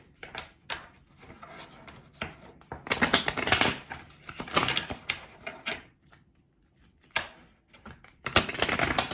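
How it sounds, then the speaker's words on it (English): A deck of cards is shuffled in several quick riffling bursts, crisp and close, separated by brief pauses. "I'm doing a quick shuffle."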